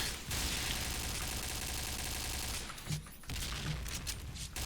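Dense gunfire in a video game deathmatch, with rapid overlapping shots at close range that form a loud, continuous volley. It breaks off briefly and then resumes.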